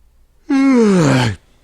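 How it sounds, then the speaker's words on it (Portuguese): A single drawn-out yawn, close and fairly loud, with a rising start and a long falling, voiced exhale lasting about a second, then quiet. "bocejo de sono no meio da aula"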